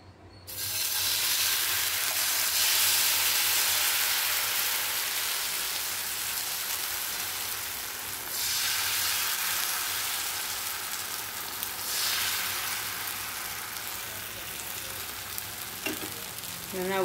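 Ragi dosa batter cooks with oil on a hot pan, giving a loud, continuous sizzle that swells in a couple of bursts as oil is added, close and unbroken, with a short voice at the end.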